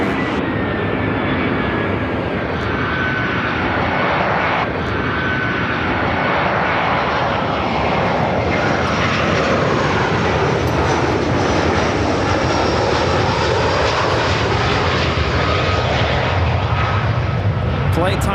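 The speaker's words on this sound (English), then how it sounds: "This next arrival is American Airlines 2777 coming in from Philadelphia on the A319." An American Airlines Airbus A319 arrives at Chicago O'Hare from Philadelphia, its engine roar loud and continuous with a faint whine gliding downward, and a voice is likely talking over it.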